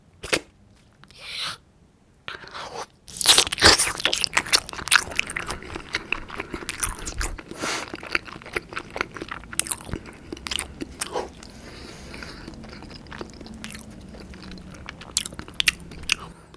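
Close, crisp bites into acorn jelly followed by soft, wet chewing, with a short pause near the start and then repeated crunchy bites and mouth sounds continuing without talk.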